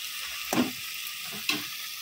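Chicken kosha cooks in a pan with ground cumin, chilli paste and ginger, giving a steady moderate sizzle broken by two sharp spoon-stirring scrapes and no voices.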